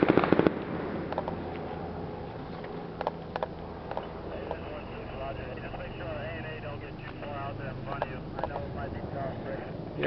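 Small arms fire from insurgents and Afghan National Army troops crackles in a valley, heard far off as scattered sharp pops and short bursts. Wind rumble and nearby voices run underneath.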